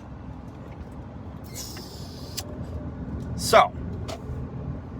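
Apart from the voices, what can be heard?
car driving, interior road noise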